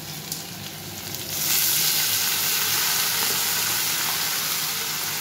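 Boiled vegetable stalks dropped into a hot pan with a little water, a quiet hiss jumping into a loud, steady sizzle and frying crackle that holds close and continuous to the end.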